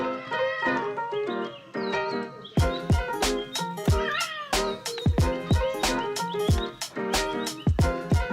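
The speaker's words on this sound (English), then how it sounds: "you never mess with a grumpy cat" Repeated grumpy cat meows and yowls, some drawn out and whiny, others short, over a busy musical backing with sharp percussive hits.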